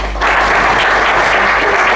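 Audience applause at a Polish panel discussion meeting, starting after a brief pause and then holding as dense, steady clapping from a full room for the rest of the stretch.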